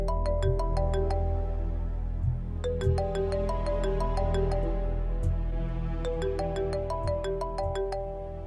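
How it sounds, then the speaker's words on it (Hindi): Mobile phone ringtone in a household scene from a Pakistani TV drama, a bright melodic phrase that plays three times in a steady loop over a soft low hum, loud and close, with no voices. "बहुत देर से फोन बज रहा है, अटेंड क्यों नहीं करती हो?"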